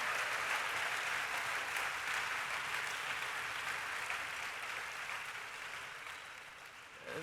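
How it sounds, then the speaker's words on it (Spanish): A church congregation claps in praise during a bilingual morning service, dense steady applause from the whole room lasting several seconds and slowly fading toward the end. "Let's give Jesus a hand clap of praise this morning"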